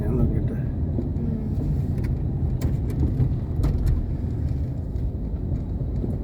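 Steady, close road rumble inside a moving car, low-pitched and continuous throughout, with a person talking over it.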